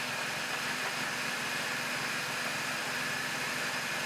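A car engine idling roughly while propane is fed in, a steady low mechanical hum with a faint uneven pulsing, heard close and alone without voices.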